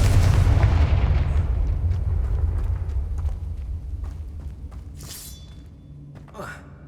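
A Confringo blasting spell explodes in Hogwarts Legacy, opening with a loud, broad boom that rumbles and slowly decays over several seconds, followed by scattered crackles and a few brief sharp effects near the end.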